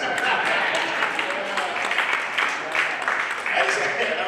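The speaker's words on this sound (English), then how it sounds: "Round of applause" Comedy club audience in Wyoming applauding steadily, a dense wash of clapping that holds for several seconds with slight swells, fairly close and full.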